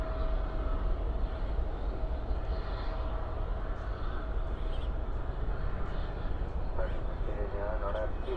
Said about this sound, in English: Here goes this Max 9 again off back to Seattle for Alaska.